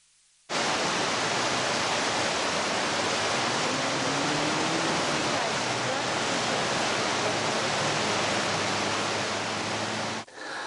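Water rushes through a dam spillway cascade in a loud, unbroken roar that starts suddenly and holds steady for about ten seconds before cutting off.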